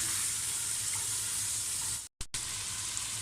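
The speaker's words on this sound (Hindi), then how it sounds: "मैं इसमें अदरक लहसुन का 1-1 खाने का चम्मच पेस्ट शामिल करूँगा और इसे 1 मिनट के लिए अच्छी तरह मैं भून लूँगा ऑयल में" Ginger garlic paste frying in oil in a pot for haleem, a continuous faint hiss and sizzle with a momentary gap near the end.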